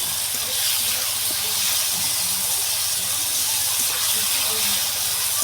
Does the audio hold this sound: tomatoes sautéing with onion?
yes